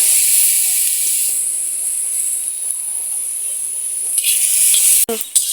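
Garlic and green chillies fry in hot oil in a pan, giving a steady close hiss and sizzle that holds evenly and ends with a sharp clatter.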